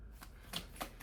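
A brief, close riffle of oracle cards being shuffled for a reading, with two or three quick papery bursts and no talk.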